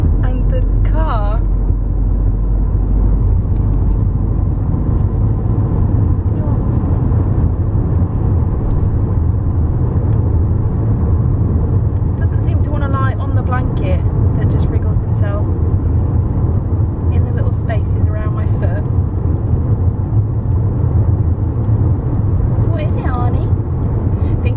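Steady low engine rumble and road drone from inside a moving car, continuous and close throughout, with a young Cocker Spaniel puppy riding along and a person talking over the hum.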